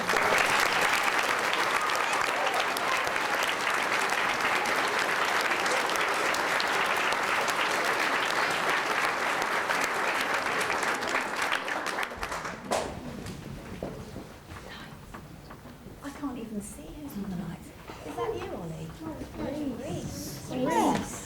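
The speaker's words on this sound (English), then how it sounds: "Well done, let's give him a clap." Audience applause rings out at a junior school's Year 5 and 6 production of Oliver, dense steady clapping for about twelve seconds before it drops away to scattered claps, shuffling and quiet murmurs.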